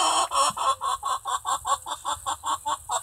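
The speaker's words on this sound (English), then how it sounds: "Now this is even funnier because the broody hen moved down here." A broody hen sits in a nest box on a small farm and clucks steadily and close by, in a rapid regular series of about a dozen calls with no talk.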